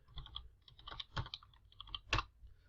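Keys on a computer keyboard clatter in short irregular bursts as a command is typed, close and fairly quiet.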